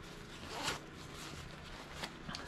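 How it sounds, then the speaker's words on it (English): A zipper is pulled shut on the cuff of a heated glove, giving a short rasping zip followed by a second brief zip, heard close and fairly quiet with no talking. "Zip it up."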